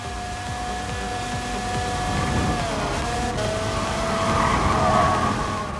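Racing car engines in the driving game Gran Turismo Sport drone steadily, a continuous roaring tone that dips in pitch as if shifting or passing, with a constant wash of engine and tire noise throughout.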